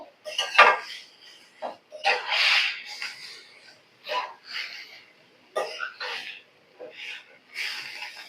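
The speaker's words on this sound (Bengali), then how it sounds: "আর এখন হচ্ছে কিছুক্ষণ নাড়াচাড়া করবো এর ভিতর, তারপর তুলে নেব।" Chickpea husks frying in oil are stirred in a pan, heard as a series of short metallic scrapes and clinks in irregular bursts, close and fairly quiet, with brief breathy and coughing sounds between.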